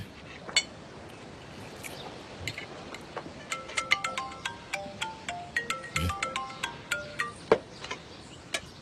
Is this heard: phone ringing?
yes